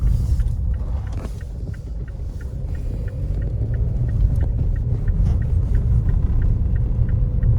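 A car is being driven, giving a loud, steady low rumble of road and engine noise from inside the cabin. A faint repeating tick runs under it, and no voices are heard.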